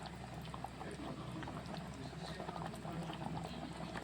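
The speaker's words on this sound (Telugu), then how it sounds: "ఇంకా ఇట్లా ఉడుకుతుంటాయి మంచిగా." Fish curry bubbling in a pan, a steady soft busy simmer with small pops and gurgles running continuously at moderate level, no talking.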